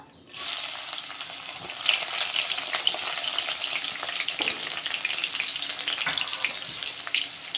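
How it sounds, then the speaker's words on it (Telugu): Chopped onions hit hot oil in a pan and crackle loudly, the dense, hissing sizzle setting in abruptly and holding steady up close for several seconds. "ఇప్పుడు ఇందులో అయితే కట్ చేసుకున్న ఉల్లిగడ్డలు వేసుకుంటా."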